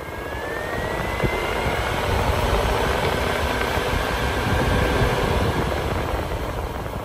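A dual MSC overhead fan system running on high inside a CFMOTO UFORCE 1000 cab gives a loud, steady whooshing drone with a faint whine throughout.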